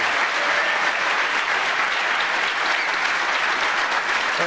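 A snooker arena crowd at the World Championship gives sustained, loud, dense applause after a century break, continuous clapping filling the hall.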